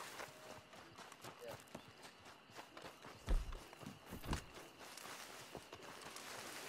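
Running footsteps of a player character on foot in Red Dead Redemption 2, a steady quick patter of steps with a couple of heavier thuds, heard under a moderate game ambience.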